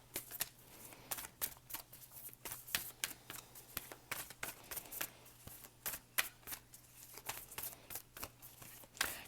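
Animal oracle cards being shuffled by hand, a quiet, close run of quick riffling flicks and soft slaps in uneven bursts, with no talking.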